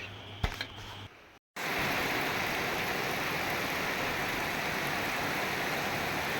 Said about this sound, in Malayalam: അപ്പോൾ ഗേസ് പുറത്ത് നല്ല മഴ പെയ്യുന്നുണ്ട്